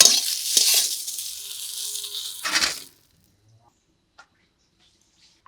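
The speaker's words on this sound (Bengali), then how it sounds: "এদিকে বেগুনও কিন্তু একদম লাল লাল করে ভাজা হয়ে গেছে" Eggplant slices fry in oil for a hilsa fish meal, with a loud crackling hiss in bursts for nearly three seconds before cutting off to near silence broken by faint clicks.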